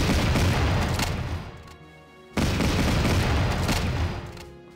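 German infantry rifle and machine gun fire in the strategy video game Battle Academy: a dense, loud fusillade of overlapping shots that fades briefly before another sustained burst, with no talking.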